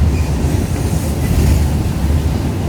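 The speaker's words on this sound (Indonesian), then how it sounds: "Wah, papasan tuh, entah kereta apalah." Aboard the Argo Muria train running from Jakarta to Semarang, a loud, steady rush and rumble of rails and wheels fills the carriage as another train passes alongside.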